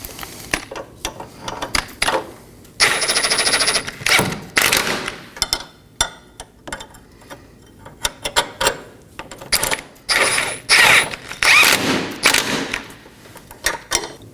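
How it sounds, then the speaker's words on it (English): An 18 mm wrench and socket snug up the control arm bolts on a Chevrolet Equinox, giving bursts of quick ratcheting clicks and metallic clatter, close up, separated by short pauses. "Now to snug up my rear bolts. So I'll put an 18mm wrench on the nut side"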